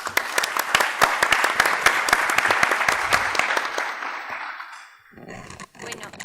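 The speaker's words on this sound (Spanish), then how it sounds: "La recibimos con un fuerte aplauso." Audience applause welcoming a speaker at an arbitration congress, sharp distinct hand claps from a modest crowd, fairly close, thinning out and dying away before a voice begins speaking at the end.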